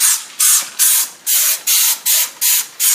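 Eight short bursts of Dawn Power Just Spray from a trigger sprayer, evenly paced and close, each a bright hissing puff separated by brief silences.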